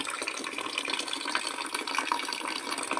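Water drains steadily from a can through a small punched hole, giving a continuous splashing, trickling hiss that stays at an even level from start to finish.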